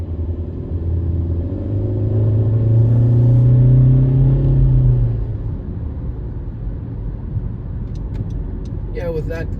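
A Honda CR-V with a 1.5 turbo engine accelerates under full throttle, a loud rising engine drone that swells over several seconds and then eases back into a steady road rumble, ending with faint clicking.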